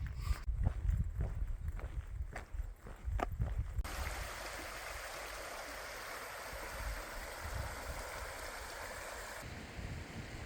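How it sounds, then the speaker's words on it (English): A small stream flows under a bridge on a trail in Ulster, Ireland, its steady broadband rush continuous and close, preceded by a few seconds of footsteps and handling noises. "Filtering water from a stream, sitting under a bridge"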